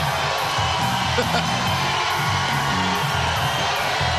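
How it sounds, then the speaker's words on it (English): A wrestling arena crowd roars and cheers for Hulk Hogan, a dense, continuous wall of shouting and whooping with a commentator talking over it. "massive reaction here for the Hulkster. Got a ruckus crowd on here live"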